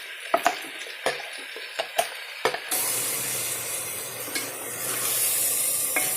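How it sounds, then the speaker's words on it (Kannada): Ground masala hits a hot pan of half-fried field beans (avarekalu), a few sharp spoon clacks giving way to a loud, continuous sizzle and hiss close by, with no voices. "ಮಸಾಲೆದಲ್ಲಿ ಸ್ವಲ್ಪ ಚೆನ್ನಾಗಿ ಫ್ರೈ ಮಾಡ್ಕೊಳ್ಳೋಣ."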